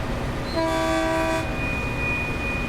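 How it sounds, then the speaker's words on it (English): A train horn in Train Sim World's Peninsula Corridor commuter route sounds one steady, multi-tone blast lasting about a second, over a constant rumbling background, with no voices. "I can hear the bells, the whistles, the dingles."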